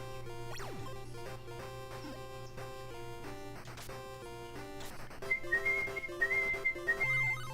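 A chiptune whistle from the Super Baseball Simulator sound chip plays as a bright tone that rises and wavers, looping several times near the end over a steady synthesized game-music background.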